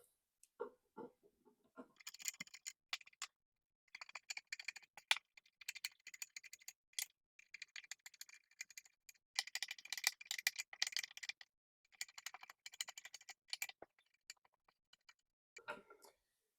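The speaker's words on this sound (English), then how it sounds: "All right, so all the screws are loosened." Phillips screws being loosened from the cushion of a stool during reupholstering, heard as bursts of quick ratcheting screwdriver clicks and small rattles, close up and fairly quiet, separated by short pauses, with no talking.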